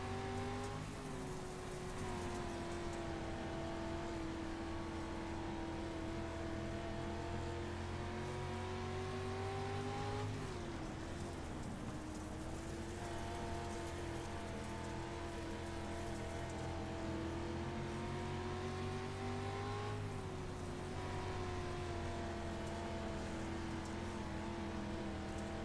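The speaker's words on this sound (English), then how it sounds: "Let's go into the machine of Bryce Dickinson and take a lap around." On-board recording of a race car lapping a dirt track at a racing double-header, the engine droning loud and steady with rising and falling revs as it lifts and accelerates through corners, no voices over it.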